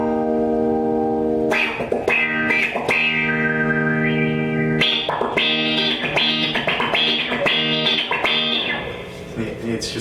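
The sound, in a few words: Mutron III-style envelope filter pedal, percussive rhythmic tone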